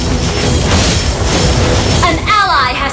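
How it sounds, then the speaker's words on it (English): A turret being destroyed in the mobile game Mobile Legends, with a loud booming blast and crashing debris over dense game sound effects, ending in a bright rising chime. "Destroyed a turret!"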